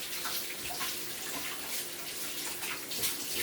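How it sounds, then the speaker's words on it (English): Tap water runs steadily as a tomato is rinsed beneath it, a close, continuous splashing hiss with small fluctuations as the fruit shifts in the stream. "So I'm going to use this tomato. Rinse it off."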